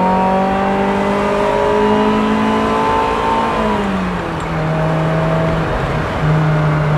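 A 1978 Ferrari 308 GTB V8 engine revving high, a steady harmonic drone that drops in pitch partway through and then settles into a lower hum, close and loud.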